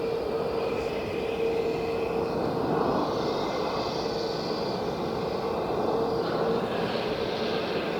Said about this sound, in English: now we just heard the air get cut off from the engine start again